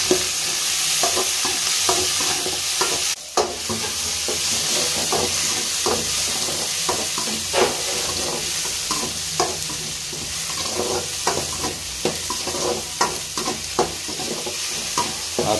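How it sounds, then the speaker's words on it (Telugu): Chopped tomatoes frying and being stirred in a pan for a cauliflower, potato and green pea kurma: a steady loud sizzle with rhythmic scraping strokes of a spoon throughout. "ఇప్పుడు మనము ముందుగా కట్ చేసి పెట్టుకున్న టమాటా వేసుకున్నాము. వేసుకొని కలుపుకోవాలండి."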